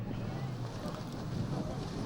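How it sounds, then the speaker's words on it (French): Strong wind buffets the microphone at the Dreux rallycross track in France, a steady roaring rush with low rumble throughout, loud and unbroken. "Beaucoup de vent à Dreux."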